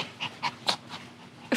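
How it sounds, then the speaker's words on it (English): A dog showing side effects pants heavily nearby, a quick, regular series of breathy bursts at about four per second, alone without talk. "And he's panting a lot."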